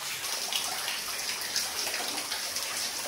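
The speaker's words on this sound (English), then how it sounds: "This water dripping everywhere" Water dripping and trickling inside a flooded abandoned gold mine tunnel, a dense, steady wash of splashing drops echoing close by, continuous and even for a few seconds.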